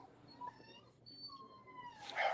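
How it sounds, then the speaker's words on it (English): Puppy at a door wanting to be let in: faint, high, thin whimpering whines rising and falling in several short cries, quiet over a low background. "I see a paw under my door from my pup."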